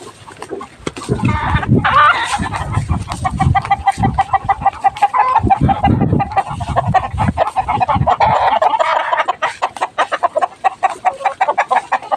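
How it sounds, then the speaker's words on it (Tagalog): Chickens cluck and a rooster calls at a poultry farm, with busy, overlapping bird calls up close and short sharp rustles in between. "Dito na tayo sa manukan."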